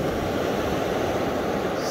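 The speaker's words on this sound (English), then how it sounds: "Now we're at the third beach. This is Boulder Beach." Continuous rushing wash of waves breaking on Boulder Beach, a loud, steady roar with wind noise across the microphone.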